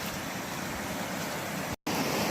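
A small waterfall spills through rock in a stream at a gold-prospecting site, giving a steady, dense rush of water heard close up with no voices.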